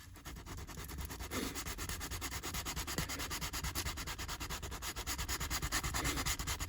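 Filler being gently rubbed into a creased leather car seat on a Jaguar XJR, a soft rhythmic scrubbing that rises and falls in quick repeated strokes, close and steady.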